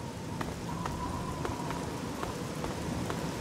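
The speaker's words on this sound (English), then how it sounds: "Just always raining out here." Steady rain falls in the wasteland of Fallout 3, a dense, even hiss of drops on surfaces, with light regular ticks repeating through it and no voices.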